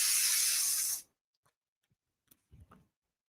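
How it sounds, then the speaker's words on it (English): A spray bottle mists fabric in a sewing room during quilt making, one steady hiss lasting about a second, followed by near silence with a few faint taps and handling clicks. "So now I'm going to spray"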